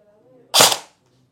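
A single sharp airsoft gun shot firing a 0.20 g BB through a chronograph, a close, loud pop with a brief tail, alone in an otherwise quiet room.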